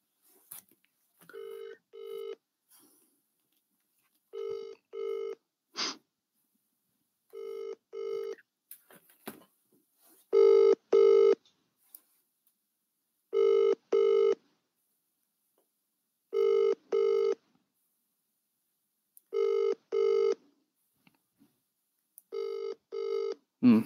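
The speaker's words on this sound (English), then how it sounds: "How long would you let the phone dial? Ringing." Outgoing telephone call ringback tone, paired electronic rings repeating at regular intervals of about three seconds with silence between, clear and steady with no talking.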